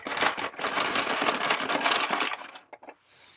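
A hand-cranked card shuffling machine whirs and clatters as cards riffle through it in a fast, continuous rattling burst that stops abruptly, followed by a few brief clicks and settling cards.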